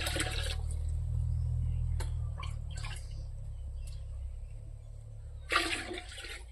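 Water is poured into a pot of boiled lentils in two brief splashy gushes, one at the start and another near the end, with a low steady hum underneath and quieter moments between.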